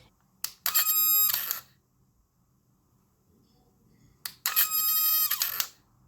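An electric motor in a homemade retractable web shooter whirs in two short, loud bursts separated by a few seconds of near silence.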